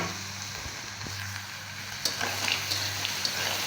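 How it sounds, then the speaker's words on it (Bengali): Fried potatoes and lentil nuggets go into a pan of curry, starting a steady sizzle that grows louder with sharp crackles and pops partway through, with no talking. "এবার আমি ভেজে রাখা আলু এবং বড়ি দিয়ে দিলাম"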